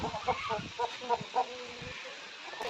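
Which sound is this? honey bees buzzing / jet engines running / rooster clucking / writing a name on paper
rooster clucking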